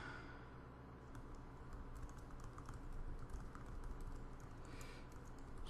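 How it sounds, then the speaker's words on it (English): Fast, steady clatter of computer keyboard typing runs throughout at moderate level, heard during a League of Legends match with no talking. "Sorry if you can hear the typing"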